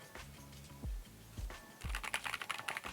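A Keychron Q6 HE QMK keyboard being typed on, with close, crisp keystroke clatter that comes in short bursts and then speeds into a quick flurry near the end, with no talking.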